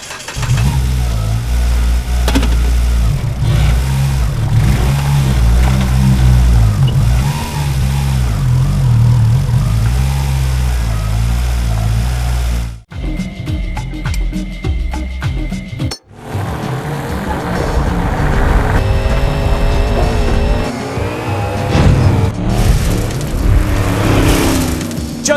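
A Mitsubishi Lancer Evolution 4 four-wheel-drive rally car racing in ToCA Race Driver 3, its engine roaring loud and sustained with shifting revs, dropping briefly for a gear change before surging again.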